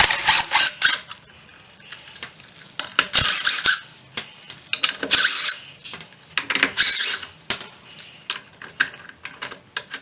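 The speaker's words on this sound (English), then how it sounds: "step one is to remove the lug nuts" Power tool spinning lug nuts off a Subaru WRX STI wheel during a brake pad change, in repeated short loud bursts with gaps between them, close by.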